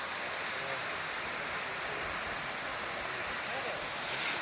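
Hummum waterfall in Sreemangal, Moulvibazar, Sylhet, roaring as a steady, dense wash of falling water that fills the whole stretch evenly and close by, with no voices standing out.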